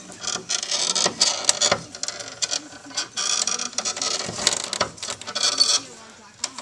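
A breaker bar cranks down a coil-over spring compressor in bursts of rapid mechanical clicking and ratcheting, close and uneven in loudness, with brief pauses between runs.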